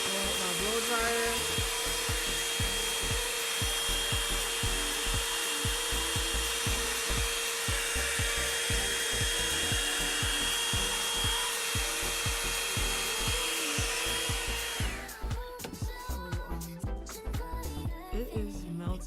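A blow dryer runs steadily and loud while melting lace wig glue, with constant rubbing and handling noise throughout; the airflow cuts off abruptly near the end, leaving scattered handling sounds.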